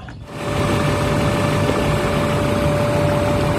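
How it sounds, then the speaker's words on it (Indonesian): BMW E39 with an M52 engine idling smoothly, a steady close drone with a faint high whine, starting after a brief quiet moment and holding even throughout with no talk. "Ini adalah suara mesin M52 yang masih halus banget."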